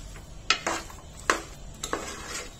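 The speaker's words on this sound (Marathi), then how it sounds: "मंद आचेवर पुरण सतत परतत राहायचंय" Chana dal and jaggery puran stirred in a pot on a gas flame at low heat, a few sharp spoon scrapes and knocks against the vessel over a faint simmer.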